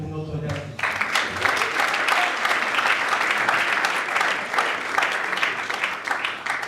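Sustained audience applause at the Nzonzing Awards 2022 ceremony in Kinshasa, a dense wash of many hands clapping that starts abruptly after a brief voice and continues loudly throughout.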